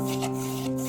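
Hands rubbing and kneading puri dough made of flour, oil and cumin, a brief soft scraping sound over a steady background hum.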